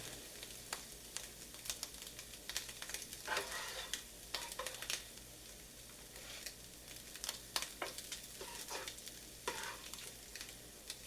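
Fried onions sizzle steadily in a pan while being stirred through cooked hamburger meat, with soft scraping and crackling taps from the stirring over a continuous low frying hiss.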